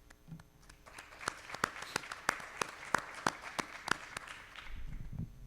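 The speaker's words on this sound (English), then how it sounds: "I think we need a bigger round of applause for our candidates." Audience at a PTA Meet the Candidates night applauds the candidates, a steady wash of mid-sized crowd clapping with sharp individual claps standing out, fading toward the end as murmuring rises.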